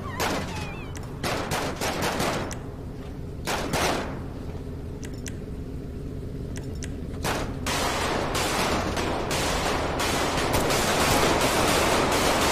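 Gunfire in GTA 5 during a law-enforcement patrol roleplay, with scattered sharp shots and short bursts spread across the clip over a steady noisy background, some shots louder and closer than others.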